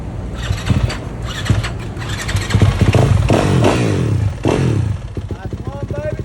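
Motocross motorcycles at a pro national race, engines revving and roaring in bursts at mid distance over crowd noise and scattered voices.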